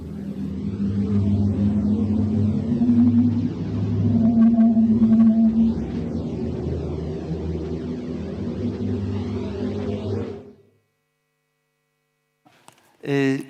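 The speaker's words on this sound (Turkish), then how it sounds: "İşte üzerinde yaşadığımız dünyamızın uzaydan duyulan sesi" Eerie, continuous whistling and warbling tones over a deep rumbling drone, a recording of Earth's sound from space, sustained for about ten seconds before cutting to silence, then a brief burst.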